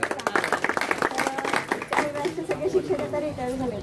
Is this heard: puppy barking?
no